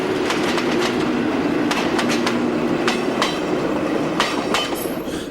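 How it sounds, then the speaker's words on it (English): A Portuguese Class 1800 diesel locomotive with a turbocharged engine pulls forward, a steady rumbling drone joined by rhythmic wheel clicks on the rails. "A different turbocharger arrangement on the engine means that the 1800s sound very similar to, but not quite identical to, a Class 50"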